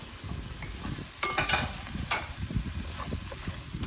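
Carrots tipped into a hot pan of caramelized paste and ginger, a steady sizzle with a few louder stirring scrapes and clatters in the middle, close and alone.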